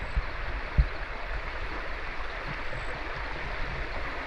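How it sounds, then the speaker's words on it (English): A bush stream runs softly in the background, a faint steady wash of moving water with a single small knock near the start. "The soft sound of that running water is going to give me the best sleep tonight."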